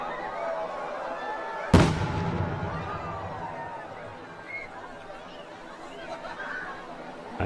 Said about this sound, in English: Up Helly Aa 2019 begins with an explosion and the beginnings of a sea of flame.